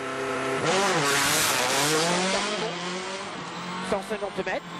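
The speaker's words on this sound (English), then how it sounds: "Tyre choice at least a straightforward process for Sébastien Loeb, who's under starter's orders before the final charge to the finish." A Citroën rally car driven by Sébastien Loeb on a tarmac stage of the 2010 WRC Bulgaria event, engine revving loud and close at the start with rising and falling pitch, under a commentator's voice.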